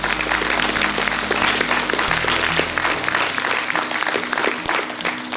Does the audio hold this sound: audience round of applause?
yes